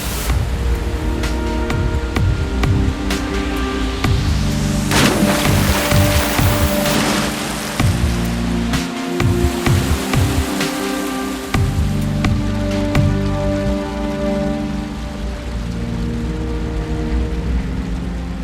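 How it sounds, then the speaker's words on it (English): River rapids in a southern rafting area gush loudly and continuously, a dense, close roar of churning water that swells and dips with layered tonal music over it. "The gushing rapids make for one of the best rafting experiences down south."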